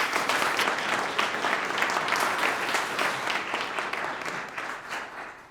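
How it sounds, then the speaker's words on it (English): A seated audience gives a continuous round of applause at a panel event, many hands clapping in a dense, even wash that holds at a steady level before tapering slightly. "a round of applause for Dr."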